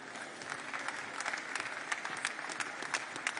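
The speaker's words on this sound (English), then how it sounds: "You can applaud him." Steady applause from a crowd, many hands clapping at once with sharper individual claps standing out, fairly close and continuous.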